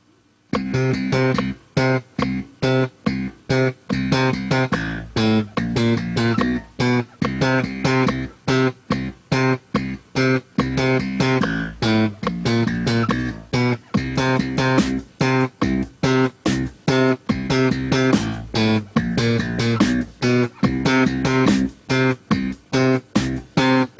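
A slap bass line mixes long ringing tones with short percussive popped and thumbed notes in a driving, continuous rhythm, loud and close with no talking.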